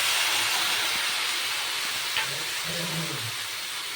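Chopped ash gourd hits a pan of fried onion and dried shrimp with a loud, steady sizzle that eases slightly over a few seconds, a short voice murmuring near the end.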